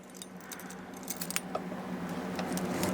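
Keys on a Zac Tool tech clip jangle and clink in a soft, continuous metallic rattle, close by and fairly quiet, with no voices.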